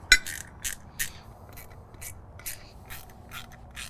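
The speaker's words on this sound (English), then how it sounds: "Then we'll take our Allen head wrench, go on the back side here, and start to tighten these up." Allen head wrench tightening nuts on a beacon light mount for a John Deere Z7 zero-turn mower, giving a sharp metallic click followed by a steady series of ratcheting ticks and light scrapes, close by.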